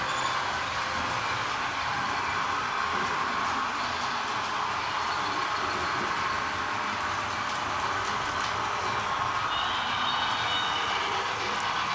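A model railway train runs steadily with a continuous rolling rumble and hiss for the whole stretch. The sound is fairly quiet and even, with no voices.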